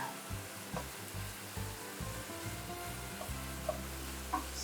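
Chicken pieces fry in a pan with a constant low sizzle and occasional stirring clatter, quiet and steady with no voices.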